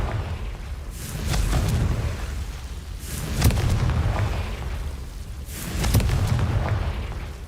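Confringo blasting spell explosions in the Hogwarts Legacy video game: three loud booming blasts a few seconds apart, each a sharp burst trailing into a rumbling decay, with no talking.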